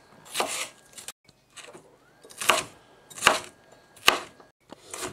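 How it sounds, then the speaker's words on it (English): Red pepper being chopped into small bits on a board, several sharp knife strikes in uneven bursts with short pauses between, close and fairly loud, no voices. "So I'm just going to cut that in half, and again, I'm just going to cut that up into little bits."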